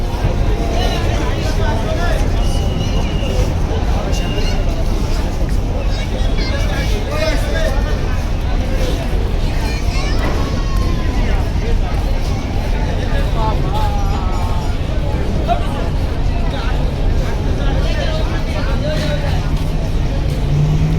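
Parabat 12, a river passenger launch at Barisal, shifts into reverse and backs out, a loud steady engine drone with crowd babble and talk on the busy riverside throughout.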